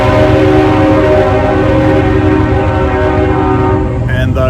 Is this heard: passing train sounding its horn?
yes